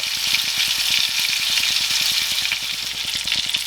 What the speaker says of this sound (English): That way they cook in the butter.